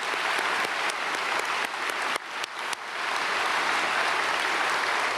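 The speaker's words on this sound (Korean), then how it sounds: "박수." A church congregation at a Sunday worship service applauds the choir and its conductor, a dense, steady roar of clapping that briefly dips in the middle and then carries on evenly.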